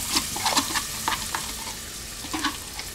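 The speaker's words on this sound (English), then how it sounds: "And then you want to get your onions rolling first thing." Onions fry in a pan under a dense, close sizzle, broken by repeated scraping and tapping stir strokes spread irregularly across the few seconds.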